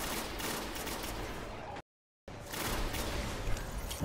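Dense, rapid hand cannon gunfire in the video game Destiny rattles continuously, loud and harsh, broken by a short moment of silence before resuming.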